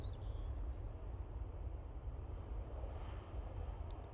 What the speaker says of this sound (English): So I just had that little 319 come in.